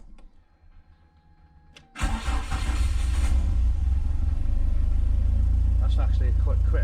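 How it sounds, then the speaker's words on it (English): A Peugeot 205 GTi Mi16 petrol engine, cold after sitting four weeks in a warm, muggy garage, goes from near quiet to a sudden loud catch and then a steady, close, rumbling idle. "give it a crank and see if it fires up"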